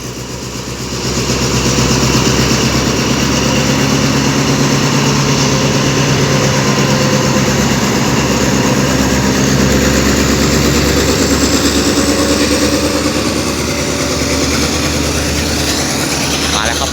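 A heavy diesel engine drones loudly and continuously, its low rumble rising slightly as rapid train 112 pulls away from Ban Phachi Junction station in Thailand.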